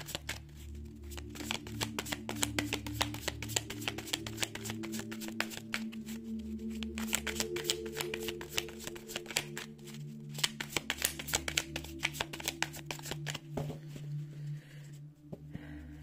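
Oracle cards are shuffled and drawn by hand close to the microphone, producing a steady run of soft, rapid riffling clicks and taps at low volume over a faint background hum.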